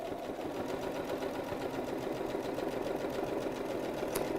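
A sewing machine stitches a gently curved dart in a straight skirt, giving a quiet, steady rapid whirring hum with no pauses.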